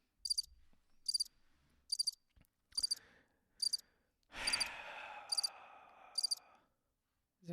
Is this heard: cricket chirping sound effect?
yes